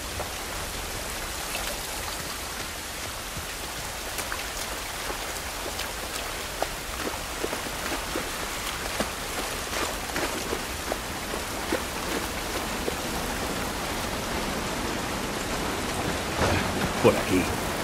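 Continuous heavy rain in the video game The Last of Us Part 1 on PlayStation 5 hisses and patters throughout, a dense, even wash of drops with occasional louder splashes.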